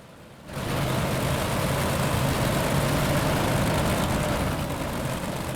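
Engines of Big Block Modified race cars in the iRacing video game, a loud, steady, dense engine roar that begins abruptly and holds constant with no talk.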